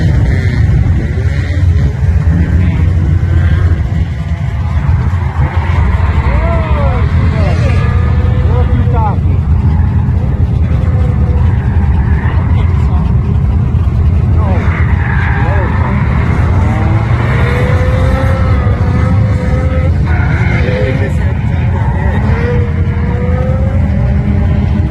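A drift car takes the first corner at a US Air drift event, the engine roaring loud and close with tire squeal and skidding, and engine notes rising and falling throughout, while people talk over it.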